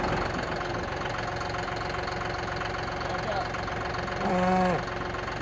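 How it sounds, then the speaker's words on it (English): A newer tractor on a beef farm idles with a steady, low engine sound throughout, with a brief rise in pitch near the end. "And this is one of our newer tractors, actually."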